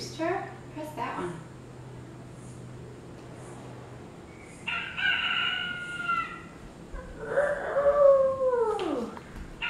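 A toy sound button plays a rooster crowing, a clear mid-loud crow rising and falling near the end after a shorter call, with people talking over a noisy room.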